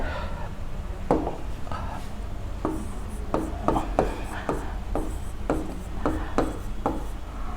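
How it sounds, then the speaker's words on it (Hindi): Pen strokes scratch across paper as a title is written by hand, a series of short rhythmic scraping strokes close by, with faint background hum and no clear speech. "सबसे पहले अपना शीर्षक लिख लेते हैं।"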